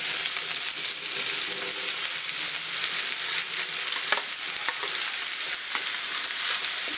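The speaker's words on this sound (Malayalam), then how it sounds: "ഇനി ഇതിലേക്ക് നമ്മൾ മിക്സ് ചെയ്ത് വെച്ചിരിക്കുന്ന ക്യാബേജ് ചേർക്കാം." A cabbage mixture for cabbage thoran fries in a pan of coconut oil with mustard seeds, dried red chillies and curry leaves, giving a loud, close, steady hiss of sizzling with occasional scraping clicks throughout.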